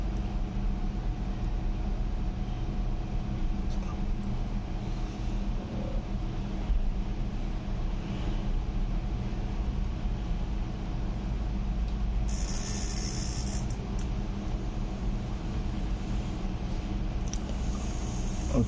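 A Hobbywing Quicrun Fusion FOC 1800kv brushless RC motor runs steadily at light throttle, giving a continuous, even whine and hum with no voices, holding constant from start to finish.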